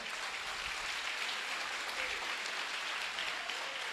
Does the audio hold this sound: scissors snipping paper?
no